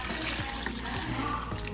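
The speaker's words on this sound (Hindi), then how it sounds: "इसमें हम पानी ऐड करने लगे हैं।" Water is poured into a pan of kidney bean curry. The trickle and splash is steady and close at moderate volume, with soft clinks of the pan.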